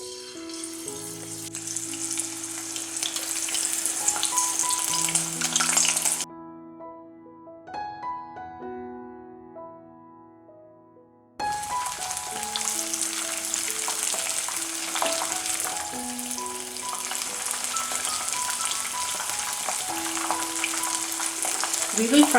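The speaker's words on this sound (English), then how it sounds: "Now time to fry these cheese pieces." Paneer cheese pieces fry in oil over a medium flame, giving a dense, continuous sizzle under a melodic music bed. The sizzle drops out for a few seconds midway, then returns.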